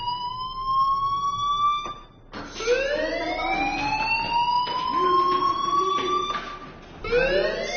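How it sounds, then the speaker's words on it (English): A fire alarm in a PS4 video game blares as a loud electronic siren with rising, repeating sweeping tones, cut by short breaks, alone without talk. "Hey, do you hear that fire alarm?"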